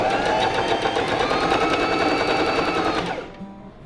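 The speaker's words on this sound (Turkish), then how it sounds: "Kumaşımı altına yerleştirip makinamı çalıştırıyorum." A Pfaff Smarter 140S sewing machine stitches a buttonhole, its needle running in a steady, rapid mechanical chatter at close range for about three seconds before stopping abruptly.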